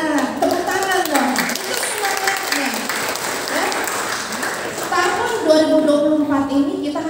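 A seminar audience of early childhood educators and lecturers claps together. The applause stays steady beneath a speaker talking over a microphone throughout.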